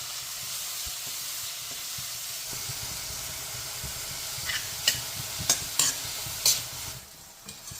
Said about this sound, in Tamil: அவரைக்காவும் நல்லா வெந்துருச்சு தேங்காய் போட்டு ஃப்ரை பண்ணி எடுத்து வச்சிடலாம்